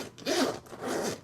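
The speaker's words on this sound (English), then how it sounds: "we have to do the zipper test" A zipper slides along a pink Prada look-alike bag in two quick, close pulls, each a short raspy zip with a brief pause between.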